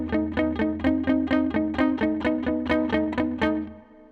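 Chugging palm-muted electric guitar plays a rapid, even riff of short distorted stabs, close and driving, with no voices.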